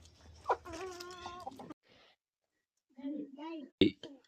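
Chickens cluck and squawk close by in short bursts, separated by a brief quiet gap, with one sharp louder squawk near the end.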